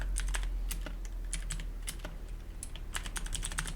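Rapid, steady keyboard typing close by, a fast run of clicky keystrokes with brief pauses, no voices.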